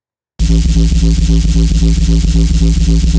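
A second bass layer from a drum and bass remix starts after a short gap, loud and gritty, pulsing in a fast regular rhythm of repeated distorted notes.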